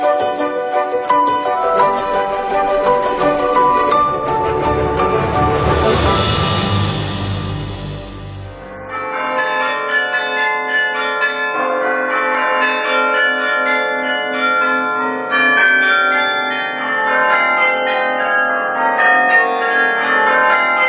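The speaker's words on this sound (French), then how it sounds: "les carillons sonnent, perchés au sommet des beffrois qui dominent les villes du Nord" Carillon bells ring from a belfry atop a town tower in Douai, in northern France, chiming a clear melodic run of many tuned bells, loud and ringing on with long decays.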